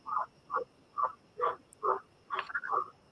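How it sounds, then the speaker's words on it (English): Frogs croaking in the background outdoors, a run of about eight short rhythmic croaks at a steady pace, moderately close and alone. "You got frogs or dogs in the background?"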